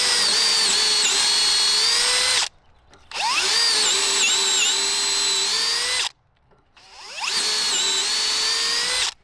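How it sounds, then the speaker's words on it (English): Power drill boring dowel holes in wood with a DowelMax jig during a stair repair: three loud, sustained whining runs, each a couple of seconds long, separated by brief pauses. "So I love these drill bits, this DowelMax that they send with it."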